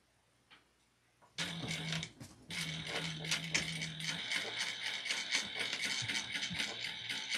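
A sewing machine sews a pocket line on a tall wallet, starting after a brief quiet with a few clicks, then running in a steady rapid ticking rhythm close by, with no talk.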